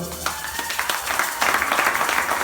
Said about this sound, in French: Priez, bien-aimés, acclamons pour notre Seigneur.